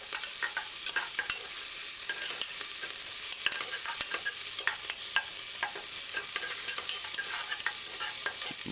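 Dried pimento berries sautéing in a hot pan on a medium-high stove, a steady bright sizzle with scattered crackles and occasional stirring scrapes, close and continuous with no talking.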